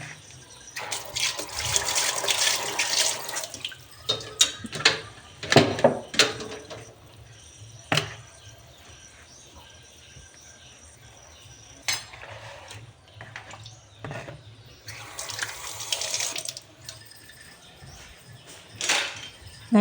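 A kitchen tap runs while native eggs are being washed, with water splashing in uneven bursts alongside clinks and knocks of dishes, close and moderately loud, no talking.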